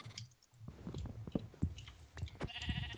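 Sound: sheep bleating in video game

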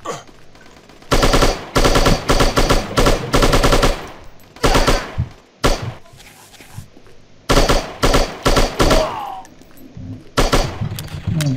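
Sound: gunfire in a mobile shooting video game

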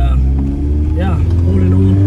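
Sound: VW MK1 car engine with 272 cam revving

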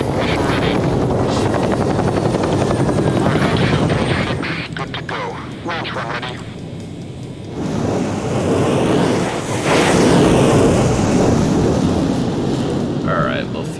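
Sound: Chinook helicopter in video game Carrier Deck

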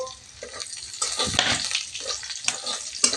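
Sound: chopped garlic and green chillies frying in oil

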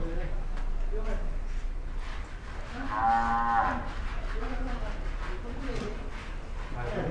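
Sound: buffaloes mooing on a cattle farm

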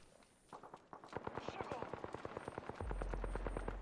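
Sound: gunfire in the video game Apex Legends

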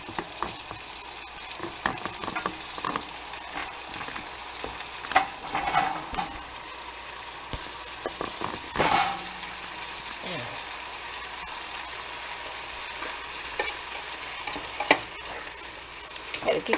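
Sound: ground beef frying and being stirred in a frying pan

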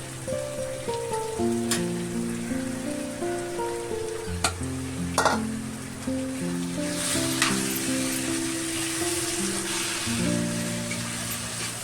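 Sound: paneer being stirred and fried with onion-tomato masala

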